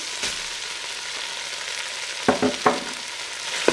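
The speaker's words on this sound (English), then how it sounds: "let's add in our spring onions and tomato" Tomatoes and spring onions frying with softened onions in a pot give a steady close sizzle, broken near the end by a few sharp clatters of stirring.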